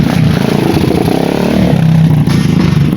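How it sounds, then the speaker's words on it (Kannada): A TVS Apache RTR motorcycle at a dirt-track autocross race passes close by, its engine loud and buzzing steadily with revving throughout, no talk. "ನೋಡಿ, ಇಲ್ಲಿ ಒಂದು ಬೈಕ್ ಬಂತು"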